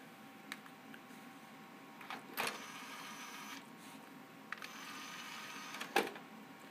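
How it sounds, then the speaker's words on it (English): Fans in a Gigabyte GZ-X5 computer case running after a Windows XP boot give a faint, steady whir, with a few sharp clicks and ticks over it. "The fans are not that loud"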